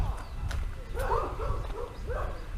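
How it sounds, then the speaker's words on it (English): Several dogs bark back and forth near a drainage area at Kewarra Beach, a few short, moderately distant barks over a steady outdoor background rumble. "Dueling dogs."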